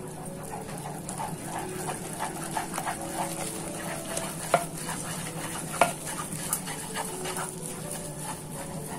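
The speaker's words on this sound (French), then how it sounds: "je vais jeter la totalité de ma farine et je vais remuer" Flour is stirred into just-boiled water off the heat to make choux pastry for profiteroles, a soft continuous scraping and thick mixing in a pan with a couple of sharp utensil knocks, close and fairly quiet.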